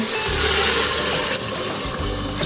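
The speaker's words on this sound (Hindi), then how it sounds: "अब इसके अंदर हम पानी डाल लेंगे।" Water pours into a pot of chana dal cooking in oil, a steady rushing splash that continues throughout without speech.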